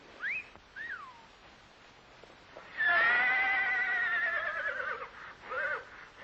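A horse whinnies twice in short calls, then lets out a long, loud neigh, followed by a brief final whinny, with no talking.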